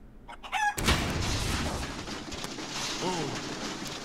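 Chicken clucks and squawks in the animal battle game Angrymals, rising over a loud burst of artillery-like game noise and rumble, with a brief clucking call near the end.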